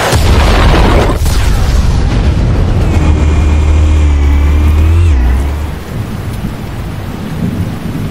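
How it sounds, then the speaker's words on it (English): Explosives detonate in the Batman: The Telltale Series video game, producing a loud, deep rumbling boom that rolls on for several seconds with a whining tone over it, then fades into a lower sustained roar. "Explosives armed. Fire when ready."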